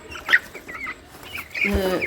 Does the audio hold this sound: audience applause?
no